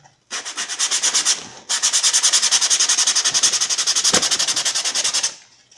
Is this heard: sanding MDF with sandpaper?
yes